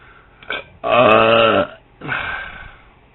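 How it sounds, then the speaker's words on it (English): Three belches from a man with gas: a short one, then a long, loud, drawn-out belch, followed by a rougher medium-length one, close and clear with no talk. "I'm belching all the time."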